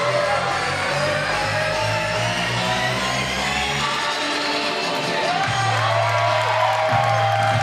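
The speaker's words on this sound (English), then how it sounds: "this Inspire Pro crowd, they're showing their appreciation of her efforts as well" Crowd at an Inspire Pro Wrestling event cheering and whooping in a steady, loud roar of voices that swells and carries on throughout.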